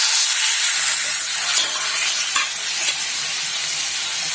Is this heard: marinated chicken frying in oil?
yes